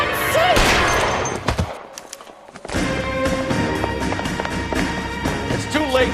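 Gunfire in the video game L.A. Noire: loud, rapid bursts of shots up close, a brief lull, then renewed volleys mixed with game sounds.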